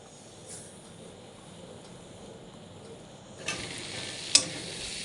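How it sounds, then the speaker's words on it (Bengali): Vegetables for moong dal frying with spices in a pan, a faint low sizzle that swells louder near the end, punctuated by a couple of sharp utensil clicks. "সেই সবজিগুলো একটু ভাজা ভাজা করে নিচ্ছি, অর্থাৎ কষিয়ে নিচ্ছি মশলা দিয়ে।"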